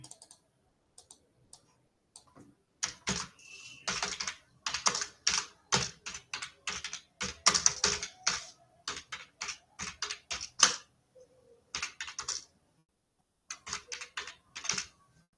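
Keys tapped on a computer keyboard while entering text for a Canva design, a quick irregular run of close, crisp clicks in bursts with short pauses, no voices.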